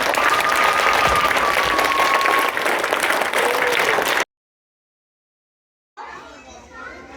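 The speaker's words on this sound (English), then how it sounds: "Everybody please clap your hands and congratulate her." At a school's Abacus success celebration, an audience of children and adults applauds for a student in a dense, steady wave of clapping mixed with children's chatter for about four seconds, then silence before quieter, scattered sound returns.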